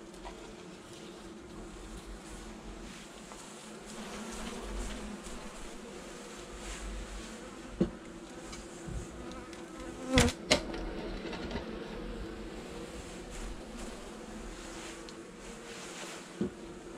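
Honeybees buzz steadily at an open hive during a November colony inspection, a continuous near drone with a few sharp knocks and clacks of hive tools and frames partway through.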